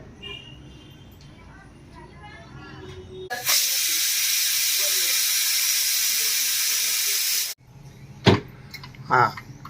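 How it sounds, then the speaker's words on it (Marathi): A kitchen pressure cooker whistle hisses loudly, a sustained broadband rush of escaping steam lasting several seconds, preceded by quiet household sounds and talk and followed by a few sharp clatters. "आता तीन शिट्ट्या झाल्या त्या कुकरच्या चार झाल्या"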